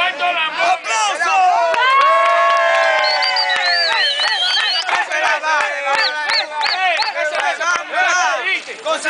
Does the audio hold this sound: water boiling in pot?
no